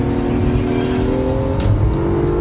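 An Acura NSX hybrid sports car pulls hard on a track, its engine a loud, sustained rising drone with harmonic whine climbing steadily, heard up close without talk.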